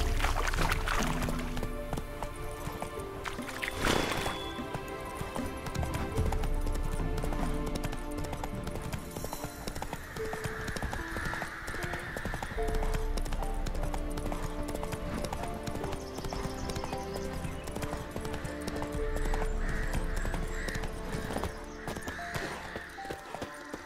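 Roach, a horse in The Witcher 3 video game, clip-clops along at a steady walking pace, hooves clear and close, under a swelling orchestral music score with occasional water-like ambience.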